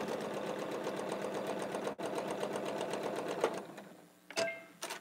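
A sewing machine runs steadily, stitching quilt pieces at a quarter-inch seam, then stops briefly and restarts for a few short bursts near the end; no talking.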